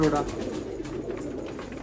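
A pair of Sialkoti pigeons coos softly, giving a faint, low, brief throaty coo near the start that fades into background noise.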